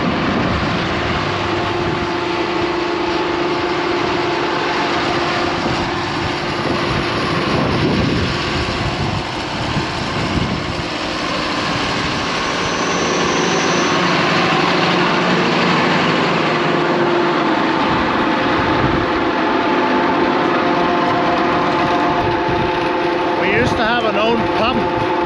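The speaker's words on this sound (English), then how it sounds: "now we're just using this tractor-driven pump" A tractor-driven slurry pump runs steadily on a farm field, a loud continuous engine drone and mechanical hum with no break, close and constant throughout.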